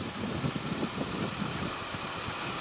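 A 2007 Ford Fusion with its 3.0 L V6 engine runs while driving, a steady, fairly quiet hum and rumble heard from the cabin with no talking.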